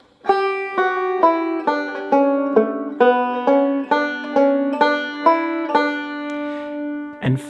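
A banjo picks a bright melodic run, the tag of the tune Liberty, with clear, evenly spaced plucked notes ringing out alone for several seconds before a final sustained chord.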